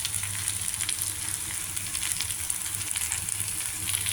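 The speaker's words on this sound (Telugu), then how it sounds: "కూర మగ్గుతోంది" Capsicum curry with ginger and green chili paste fries in a pan, a loud, continuous, close-up sizzle with bright crackling that stays even throughout.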